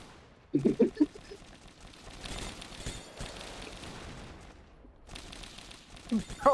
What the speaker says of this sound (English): Why are there explosions